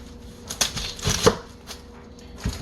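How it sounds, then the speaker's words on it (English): Knife cutting the top and bottom off an onion on a cutting board, a few scattered short chopping knocks, close and fairly quiet, with no talk. "I cut off the bottom, I cut off the top"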